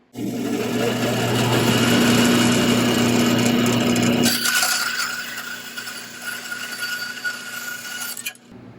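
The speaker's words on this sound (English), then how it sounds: "now we are going to use our bandsaw to cut little plugs from the slats we removed" A bandsaw cutting small wooden plugs from slats taken out of a louvered door, a loud, steady high-pitched machine whine and buzz that holds for about four seconds, then thins into lighter running noise before stopping.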